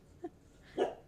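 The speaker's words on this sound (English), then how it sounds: "Barking at nothing again." A pet dog indoors barking, one short yip followed by a louder single bark, fairly faint and with no voices.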